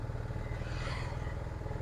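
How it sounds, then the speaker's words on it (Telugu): Piaggio Ape Classic auto rickshaw accelerating in third gear, a steady close-up engine drone with a rapid pulsing beat and clattery undertone, short and even in loudness. "ఇప్పుడు థర్డ్ గేర్లో లేపుతా చూడండి"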